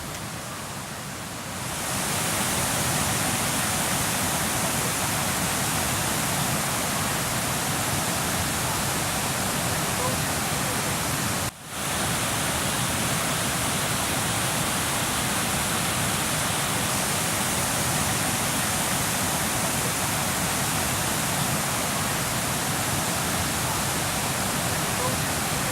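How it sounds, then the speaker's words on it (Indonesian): Water rushes over the Watervang dam on the Kelingi River near Lubuk Linggau, a dense, steady roar of falling water that fills the scene without pause, loud and continuous with only a brief dip midway. "Waterfang merupakan bendungan air Sungai Kelingi yang memiliki fungsi utama untuk mengairi persawahan di wilayah kota Lubuk Linggau."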